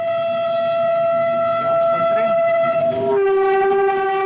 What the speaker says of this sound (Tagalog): Ayan na po yung tren.